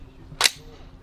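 An AR-15 rifle fires a single sharp shot at a pumpkin outdoors. The crack is brief and fairly distant, with faint background noise before and after.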